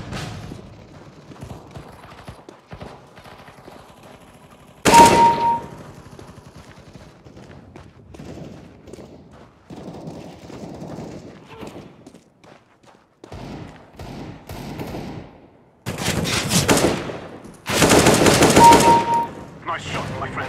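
AK-47 gunfire in CS:GO comes in a few loud automatic bursts separated by quieter stretches of movement and game noise.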